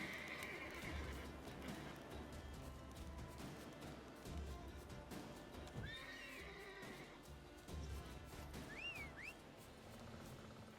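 A horse whinnies twice in the video game The Witcher 3 over a faint steady background, with soft hoof clip-clops, fairly quiet overall.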